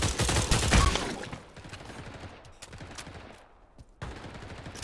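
Rapid gunfire bursts in the VR shooter game Pavlov, with dense automatic fire that loosens into scattered shots, then a brief lull before another burst, loud and close.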